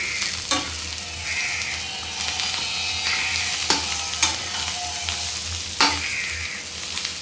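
Chilies fry in masala with chopped coriander, a steady sizzle running under repeated sharp scrapes and clinks of a spoon stirring the pan, no voices.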